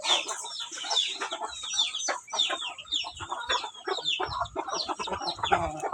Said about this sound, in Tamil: நாங்கள் புதுசாக கோழி வாங்கி வளர்த்துக்கிட்டு இருக்கோம்